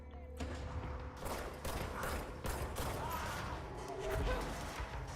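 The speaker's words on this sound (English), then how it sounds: "And I hear gunfire out here" In the video game Control, a burst of gunfire rings out in the distance at a building under lockdown. Sharp, repeated shots come in uneven clusters over a mechanical ambient background.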